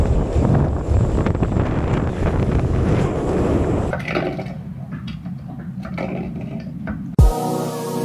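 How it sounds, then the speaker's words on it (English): Strong wind of around 60 knots buffets a sailboat, a loud, blustery roar thumping against the microphone for several seconds before easing into softer gusts, ending with a sharp knock. "over 60 miles an hour or 60 knots winds."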